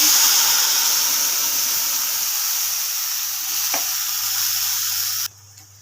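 Cumin seeds sizzle in hot oil in a pan, a loud, steady frying hiss close by with a faint clink of a utensil, cutting off abruptly near the end.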